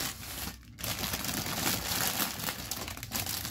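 Thin plastic bag holding parts of a bootleg HG 1/144 RX-78-02 Gundam model kit crinkles and rustles steadily as it is handled up close, with a brief pause near the start.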